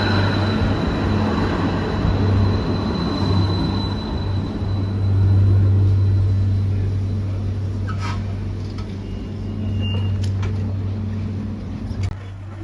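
Interior ride aboard a Bergen Bybane light rail train, a steady low rumble and hum of the car in motion with a continuous drone, occasional faint clicks and squeals, no talking.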